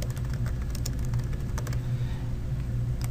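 Computer keyboard keys typed in quick irregular clicks while a file name is entered, close and clear over a steady low hum of background noise.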